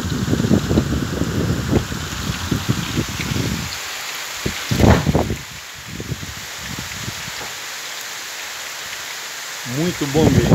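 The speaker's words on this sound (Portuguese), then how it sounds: "Escuta a zoada da chuva" Steady heavy rain hisses and patters across surfaces throughout, with people talking in Portuguese over it in the first part and sporadically later.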